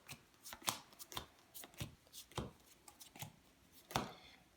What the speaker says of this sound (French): on va distribuer 10 cartes à chaque joueur